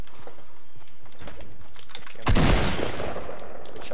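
Gunfire in the battle royale video game Fortnite: a single sharp, loud burst with a short ringing tail, preceded by faint clicking and quiet game ambience, no talk.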